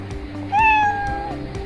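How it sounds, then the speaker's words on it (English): A cartoon cat meow sound effect played back in the Scratch programming tool, a single clear, bright meow rising then sliding down, about a second long over faint background. "one sound is given like meow. So let's play the sound and let's hear."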